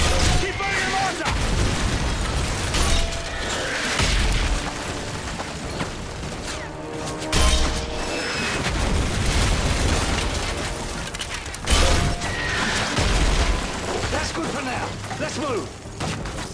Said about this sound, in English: Keep burning your mortar!